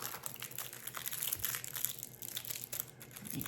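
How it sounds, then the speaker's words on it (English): Wrapped decor pieces are unwrapped, producing close, soft crinkling and crumpling of paper in a continuous rustle at low volume. "unwrap one more"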